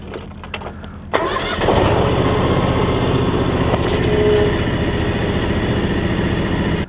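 A John Deere X700 lawn tractor engine, used with a snowblower and quick hitch, starts with a sharp burst and then runs steadily at a loud, even idle close by, with no talk.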